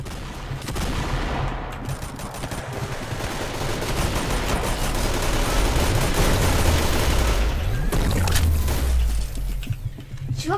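Rapid continuous minigun fire in the Roblox shooter Arsenal, a dense buzzing roar of shots sustained for about ten seconds, loud and near, with sliding mechanical tones as the barrels spin up and down.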